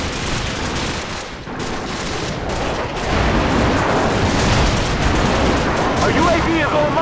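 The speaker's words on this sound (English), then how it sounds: "Friendly airstrike on the way!" Dense, loud gunfire and explosive booms from an airstrike in Call of Duty 4 hardcore team deathmatch, with continuous battle noise that swells after a brief dip, no clear voices over the din.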